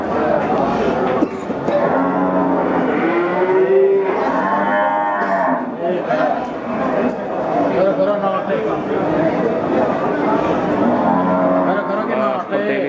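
A large Pegon cow moos in long, low calls at a busy cattle market, rising above steady crowd chatter and nearby talk.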